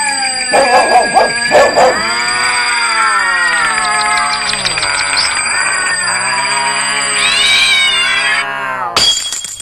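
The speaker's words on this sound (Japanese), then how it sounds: "野良猫ってほんと迷惑なんだから。" A stray cat meows in long, wavering, drawn-out cries that rise and fall almost continuously, loud and close, with a brief break near the end, in a Japanese tokusatsu TV series episode.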